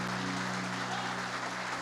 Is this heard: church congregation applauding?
yes